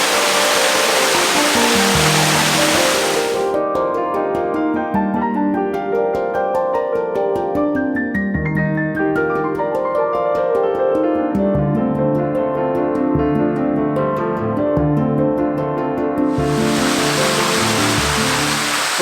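A waterfall in the Yorkshire Dales roars as a loud, dense, steady rush of falling water at the start and again at the end, with music filling the long stretch between.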